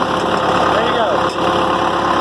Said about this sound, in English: I have not started this tractor in over 6 months. It started up immediately.